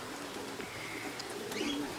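Soft, low cooing from racing pigeons close by as they return to the loft after a race, a murmuring call over faint background noise.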